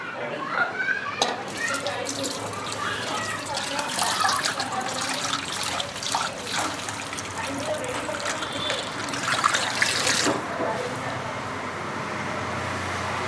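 Water pours and trickles into a pot of buttermilk kadhi for several seconds, with faint background talk and kitchen noise.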